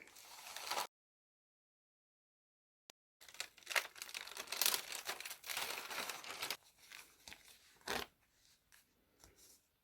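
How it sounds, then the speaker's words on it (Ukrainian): An iron on a low setting is pressed and pushed over parchment laid on a decorated plastic bag, giving crinkly rustling and crackling paper scrapes in irregular bursts, broken by a long silent gap, close and fairly quiet. "Тепер беремо праску, у мене на двійці, і проходимо, притискаючи"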